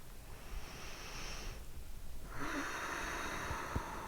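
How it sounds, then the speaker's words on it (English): One deep breath during a yoga exercise, heard close and quiet: a drawn-out airy inhale, a short pause, then a longer, fuller exhale. "Last full breath."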